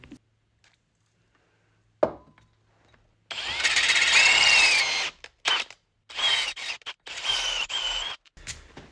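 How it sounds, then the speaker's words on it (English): Power drill enlarging a hole to 7mm in the metal of a Hayter Harrier 41 lawnmower, a loud close whine starting after a quiet opening, then broken into short stuttering bursts as the trigger is pulsed. "So I'm going to drill it out to 7mm."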